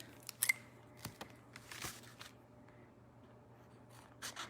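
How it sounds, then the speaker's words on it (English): Scissors cut a piece of thick acetate in a few sharp, separate snips and crisp slices, close and quiet against a faint hum, with no talk. "So I'm just gonna slice off a piece of this acetate"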